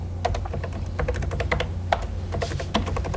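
Fingers type on a computer keyboard in a quick, irregular run of clicky keystrokes, close and clear over a low steady hum from the machine.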